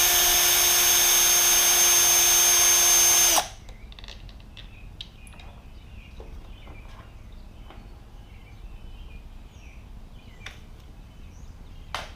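A power tool runs steadily and loudly for about three seconds while removing screws from the throttle assembly of a Ducati Panigale motorcycle, then cuts off, leaving quiet workshop ticks and small handling clicks.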